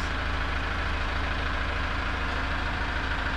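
A Mazda CX-30 diesel, about two years old, runs with a steady, close engine hum and a low rumble, continuous throughout with no talking.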